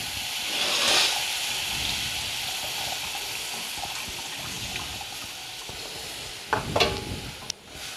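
Prawns cook in tamarind water in a pan, giving a steady soft sizzling hiss and bubbling simmer, with occasional stirring clatters and a sharp utensil knock near the end.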